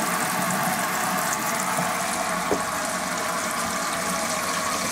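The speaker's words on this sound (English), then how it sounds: "So turn the tap on, and we've got water for the hot tap" Water runs from a tap in an Elddis Mistral touring caravan, a steady close hiss and splash that continues unbroken for several seconds with no talking.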